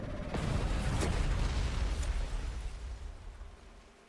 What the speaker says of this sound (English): What is it with Caleb and explosions?